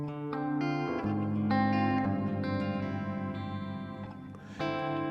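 Electric guitar chords through a ZOIA effects pedal, the reverb feeding a vibrato, ringing through heavy reverb with a wavering vibrato, sustained notes blending into a washy, shimmering tail.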